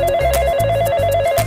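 A telephone rings in steady repeated electronic trills, close and clear, with no talking over it.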